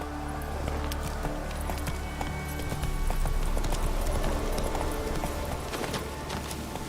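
Hooves of Roach, a horse in The Witcher 3, beat a fast, steady galloping clip-clop over a constant low rumble of game ambience.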